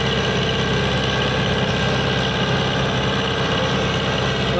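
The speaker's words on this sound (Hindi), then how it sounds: "बाकी दोस्तों ट्रैक्टर खिंचाई देखी जा रही है इस टाइम यहाँ पे" Tractor engine running steadily at a tractor-pulling contest, a loud continuous low rumble with constant vibration and no break across the clip.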